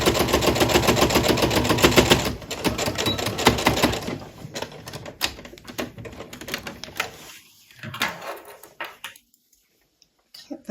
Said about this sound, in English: I'll do a back stitch just so they're nice and secure.